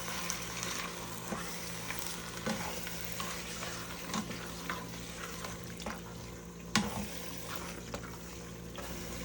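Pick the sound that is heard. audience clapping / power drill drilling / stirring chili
stirring chili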